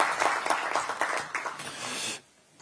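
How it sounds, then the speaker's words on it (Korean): An audience at a Democratic Party campaign committee rally in Korea gives dense, steady applause, which holds at full strength and then cuts off abruptly into near quiet. "큰 박수 부탁드리겠습니다."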